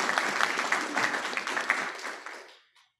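An audience at a strategic planning meeting gives a round of applause, a moderate patter of many hands that tapers off and fades to silence within about three seconds.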